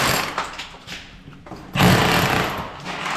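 A power tool cutting into a kitchen worktop during a kitchen install, a loud rough grinding buzz with a brief dip before it surges again, close by.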